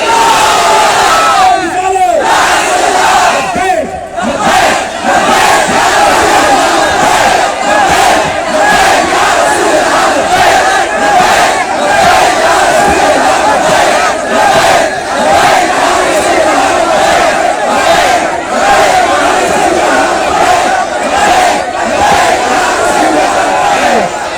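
Protest crowd at a rally in Jamshedpur's Gandhi Maidan chanting the Takbir slogan, a loud dense mass of voices shouting continuously in rhythmic waves close up.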